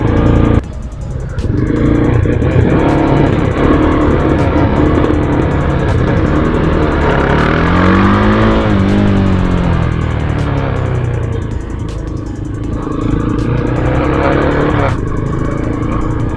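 Road traffic passing around a Z200X motorcycle during a ride, a constant loud engine drone and wind roar with other vehicles rising and falling nearby, throughout the whole stretch.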